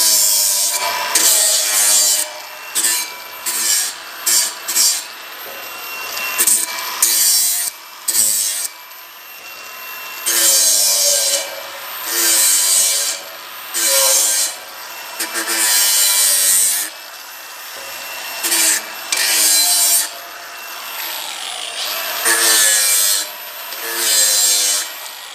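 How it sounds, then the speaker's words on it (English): A steel post end being ground to remove a burr inside and outside, loud abrasive rasping in repeated bursts of a second or two separated by short pauses, close and harsh. "So I just give the end a quick grind just to take this little burr off inside and outside."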